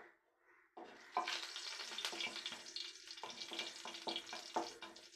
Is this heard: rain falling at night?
no